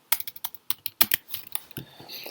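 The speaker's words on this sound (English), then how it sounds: "Sorry, I know the typing sound is kind of loud on this." Quick, irregular keystrokes tap on a laptop keyboard with a protective cover that slightly muffles the clicks; the bursts are close and fairly loud, with short pauses between.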